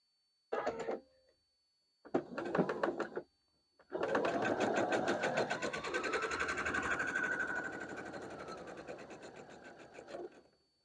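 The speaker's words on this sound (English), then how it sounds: "we're going to place our fabric like this and then sew at a diagonal like this" A sewing machine stitches quilt fabric on a diagonal, first in two short bursts and then in one long steady run of rapid mechanical whirring and clatter.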